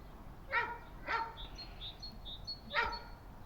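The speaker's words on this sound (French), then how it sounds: "Désolé si vous entendez mon chien." A dog barks three times, fairly close, with a pause before the last bark, while a bird chirps softly between them.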